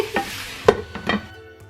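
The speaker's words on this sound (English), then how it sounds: "I'm just gonna let the meat cook in there for a little bit" Meat cooking in a hot pan on a stovetop for a Zelda-inspired recipe, with a few short stirring scrapes and soft sizzling bursts close by, no talking.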